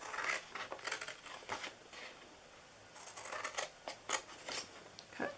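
Scissors snip through the cardboard flaps of a handmade autumn craft box, a quick run of crisp close cuts and crinkles with short pauses between strokes.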